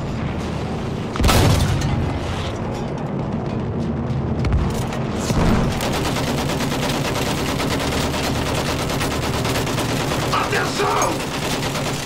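Artillery and gunfire in the Battlefield 1 World War I shooter, with heavy booms near 1 and 5 seconds over a steady barrage of rattling shots, while a voice briefly shouts a command.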